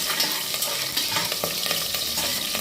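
Green chilies sautéing in a hot pan for a Kongu-style rice and lentil dish, a steady close sizzle with scraping stirring strokes throughout, no voice.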